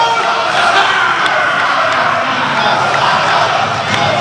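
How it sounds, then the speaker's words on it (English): A wrestling crowd at a gusset plate match between Masada and Danny Havoc chants steadily in a loud, dense roar that fills the whole stretch without pause. "They're a huge fucking Masada chant."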